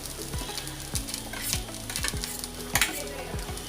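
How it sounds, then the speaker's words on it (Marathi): Fresh grated coconut roasting in a pan over low heat, a steady dry sizzle broken by regular scrapes and knocks of a spatula stirring it every half second or so. "आता मी इथे ओलं खोबरं भाजून घेणार आहे"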